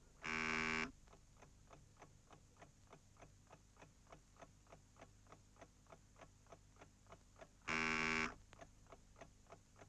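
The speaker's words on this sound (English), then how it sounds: "with the buzzer going every 10 seconds" Lightning chess buzzer sounds in two long, loud blasts roughly ten seconds apart, with a steady quick ticking of a clock running between them in an indoor club setting.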